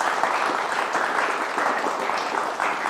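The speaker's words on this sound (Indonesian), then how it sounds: "Tepuk tangan teman-teman buat BHS." A studio audience at a debate show applauds, a thick, continuous wash of clapping at steady volume with no break.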